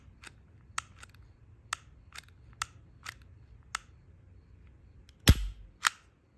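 A Taurus G2C handgun's trigger is dry-fired repeatedly, giving about nine sharp, close metallic clicks at an irregular pace, one of them a louder double-strike snap followed by a brief rattle.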